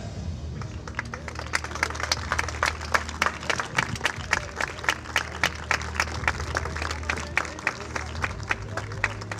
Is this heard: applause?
yes